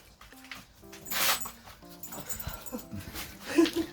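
A dog whimpers in a series of thin, high whines and short yips, close and fairly soft, with a breathy huff in the middle and scattered background noise.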